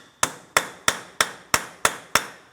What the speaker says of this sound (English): To help break this free, I'm using a hammer and punch directly in the center of the axle